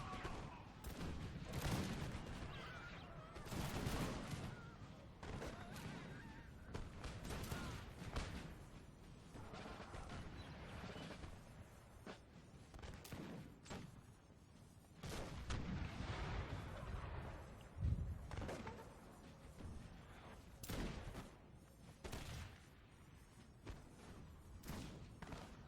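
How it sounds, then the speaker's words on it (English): Cannon fire from artillery batteries in a Napoleonic Waterloo battle in the strategy game Napoleon: Total War, with repeated booming blasts and crackling musket volleys over a constant battlefield din, loud and dense throughout. "You can see the artillery firing down."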